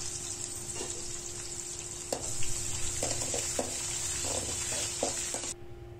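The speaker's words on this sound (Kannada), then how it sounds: "ಅದು ಚೆನ್ನಾಗಿ ಹುರಿದಿದ ತಕ್ಷಣ ನಾವು ಕಟ್ ಮಾಡಿರೋ ಈರುಳ್ಳಿನ ಅದ್ರ ಜೊತೆಗೆ ಹಾಕ್ಕೊಂಡು ಚೆನ್ನಾಗಿ ರೋಸ್ಟ್ ಮಾಡ್ಕೋಬೇಕು" Chopped onions for lemon rice roasting in a pan, a steady close sizzle with several sharp scraping stirs of a spatula, the frying hiss dropping off abruptly near the end.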